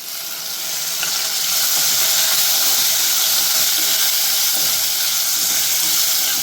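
Prawns frying in a pan with curry leaves and dried chillies for a gongura prawn dish, giving a steady, close, hissing sizzle that swells slightly after the first second and holds evenly, with no talking.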